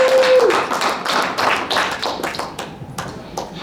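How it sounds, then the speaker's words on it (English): Audience clapping after a poetry performance at a political prisoner event, a dense spread of hand claps sustained over a few seconds, steady and close. "Please give them another round of applause."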